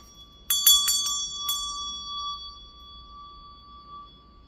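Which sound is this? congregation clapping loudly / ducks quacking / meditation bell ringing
meditation bell ringing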